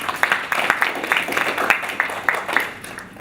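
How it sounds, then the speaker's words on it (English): Scattered clapping from a small audience at an African School on Decentralisation session, applauding Leopold, with distinct individual claps standing out against a modest, uneven patter. "let's give a round of applause to Leopold"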